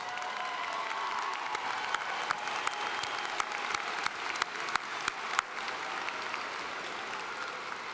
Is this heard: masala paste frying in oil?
no